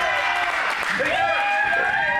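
A wrestling crowd at a live pro wrestling pre-show cheers with a broad, sustained roar, a commentator talking over the noise throughout.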